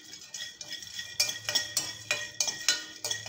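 Roasted chickpeas being stir-fried in a pan for laddu, heard as a series of close metallic scrapes and clinks of a spoon against the pan, irregular at first and then more regular and louder, with no talking.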